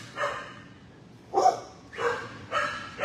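A large 64-pound dog barking at an animal shelter, four short, close, deep barks spaced about half a second apart, alone with no talk.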